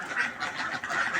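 Laying ducks kept for eggs quack in a dense, overlapping chorus, steady and close throughout with no talk.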